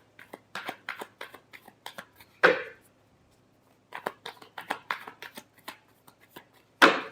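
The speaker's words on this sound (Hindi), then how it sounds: "Last shuffle." Tarot cards being shuffled by hand in rapid riffling bursts, two long runs each ending in a sharp louder snap of the deck, with a pause between them and no talking.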